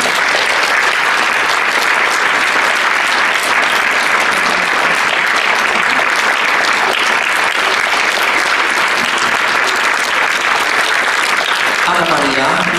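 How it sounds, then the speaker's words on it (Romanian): Dense, sustained audience applause for a young pianist at a Romanian concert, loud and continuous from start to end with no break, a voice briefly audible near the close. "Aplauze pentru Ana Maria Cotoran!"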